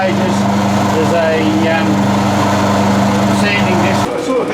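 A sanding disc machine runs steadily with a loud, continuous motor drone and grinding hum throughout, dipping slightly near the end.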